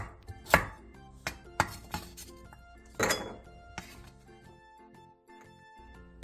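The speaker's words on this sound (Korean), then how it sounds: "당근 2분의 1개도 감자와 비슷한 크기로 잘라주세요." A knife chops half a carrot into potato-sized pieces: about eight sharp, irregularly spaced strikes, close and clear, with quiet pauses between and no talking.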